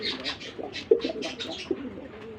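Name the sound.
domestic Golla pigeons cooing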